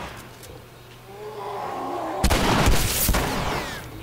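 A shotgun fires in The Last of Us: a loud, booming blast, then a second heavy crack that rolls into a rumbling tail, close and dominant over a low ambient bed.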